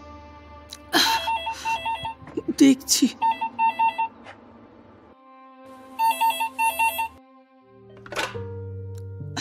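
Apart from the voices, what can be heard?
telephone ringing in the other room, audio drama effect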